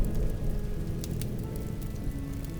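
A rain weather effect in a video game plays as a steady, dense hiss of falling rain with a low rumbling bed, constant and fairly loud throughout.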